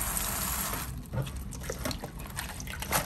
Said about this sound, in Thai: แล้วก็ล้างสองสามน้ำแล้วก็ใส่เมกกิ้งโซดาแช่ไว้ค่ะ